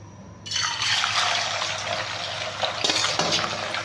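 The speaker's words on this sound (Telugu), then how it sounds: "ఇప్పుడు మనకు ఆయిల్ ఫ్రై అయింది, హీట్ ఎక్కింది. చికెన్ వేసుకుందాం." Chicken pieces for a chicken pickle drop into a small amount of heated oil, setting off a sudden loud, steady sizzle that holds for several seconds with a brief dip near the end.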